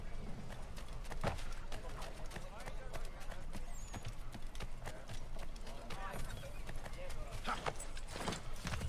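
Horse hooves clatter at a quick, even pace while riding in the video game Assassin's Creed 3, a dense rhythmic clopping mixed with game background noise, fairly quiet overall.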